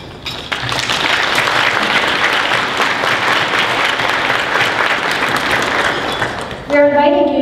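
An evening public forum audience applauds to recognize a committee, loud sustained clapping from a crowd that swells early and continues steadily, with a voice breaking in at the end.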